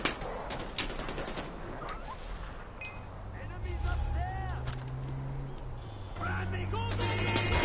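Gunfire in Far Cry 4 on PS4 Pro, dense bursts of shots and heavy impacts rattling almost continuously, mixed with a low engine-like drone and game effects, with a voice talking underneath.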